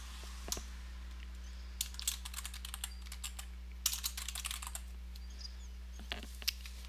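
Quiet computer keyboard typing, a few short bursts of rapid key clicks separated by pauses, close and fairly soft over a low steady hum.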